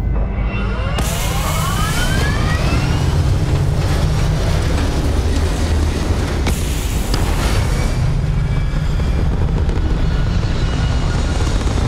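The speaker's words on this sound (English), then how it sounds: "Space takeoff" A spaceship lifts off from Mars in Starfield with a loud, dense rumbling roar, sudden bursts of thrust at the start and midway, sustained and overwhelming throughout.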